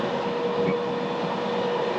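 A passenger train of seven or eight carriages hauled by a pink locomotive rumbles along steadily, heard from inside as a muffled, continuous roar with a faint tonal hum.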